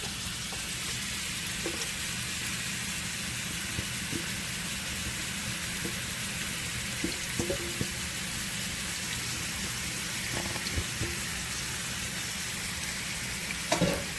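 Curry pork fries in a pan over high heat, giving a steady, soft sizzle with occasional small pops and crackles throughout.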